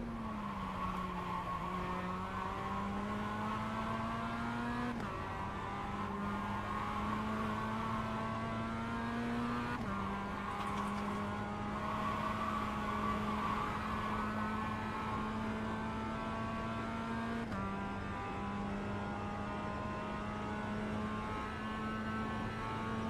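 Toyota GR race cars in the iRacing sim, engines droning steadily with rising and falling pitch through gear changes, a continuous loud racing whine throughout.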